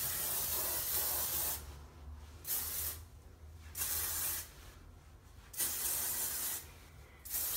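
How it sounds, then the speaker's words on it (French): A can of hairspray is sprayed onto hair in about five separate hissing bursts, each a second or so long, close to the microphone with brief pauses between them. "le spray net que je viens de me mettre"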